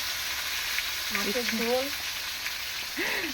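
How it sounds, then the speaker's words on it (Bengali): Shrimp fry in a pan in a village kitchen, giving a steady, soft sizzle and crackle that runs throughout, with brief voices or other tones rising over it partway through. "চিংড়া ভাজা"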